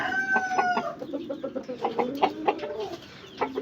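Chickens clucking close by together with a rooster, one of several aseel birds, giving a crow at the start, then a steady run of short repeated clucks and calls.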